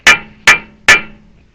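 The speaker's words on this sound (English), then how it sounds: "I was just beating the living crap out of it with," A sledgehammer strikes a welded bolt on a stuck hydraulic cylinder pin of a Case 580 backhoe three times, each blow a sharp, loud metallic clang with a brief ringing decay, evenly spaced about half a second apart.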